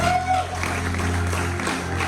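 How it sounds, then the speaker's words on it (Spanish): A church congregation applauds in a steady, moderate burst of clapping, with a voice speaking briefly at the start over the sound. "Dale un fuerte aplauso a Dios ahí donde tú estás."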